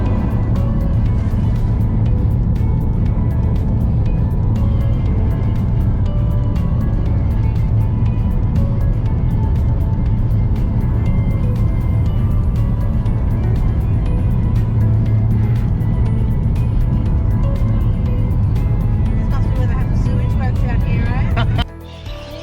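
A car drives along steadily, its engine and road rumble loud and continuous up close, with people talking over it now and then, cutting off abruptly near the end.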